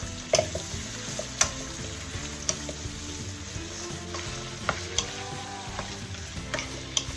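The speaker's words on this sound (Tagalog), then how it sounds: "You have to simmer it until the gizzard and the feet is cooked." Chicken feet and gizzard adobo cooking in a pan, a constant soft sizzle with repeated sharp clicks and taps of stirring, close and without talk.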